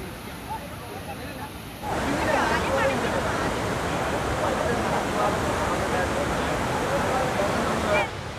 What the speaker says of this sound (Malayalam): നല്ല ശബ്ദത്തിൽ മുകളിൽ നിന്ന് താഴേക്ക് പതിക്കുകയാണ് ശൂലം വെള്ളച്ചാട്ടം.